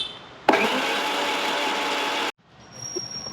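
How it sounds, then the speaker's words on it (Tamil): A blender whirs loudly for about two seconds, mixing refined oil into kajada batter, starting abruptly and cutting off sharply, followed by quiet kitchen noise. "ஊற்றி மறுபடியும் லைட்டாக ஒரு பிளெண்ட் பண்ணிக்கலாம்."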